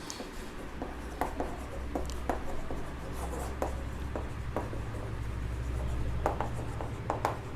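Chalk or marker scratching across a board during a class 10 maths lecture, a run of short strokes and taps over a steady low room hum.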